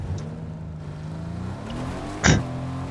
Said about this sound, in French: Hop, on va aller prendre la voiture qui est là.